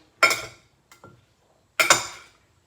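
Carrots being stirred in a marinade sauce in a bowl, with a few distinct clinking, scraping bursts of a utensil against the bowl, two strong strokes separated by a fainter one, close and clear with no talk.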